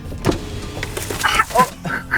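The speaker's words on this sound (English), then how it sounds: "Bad time to open your window." A car's power window motor whines in short bursts, close by, with some rustling and faint movement in between.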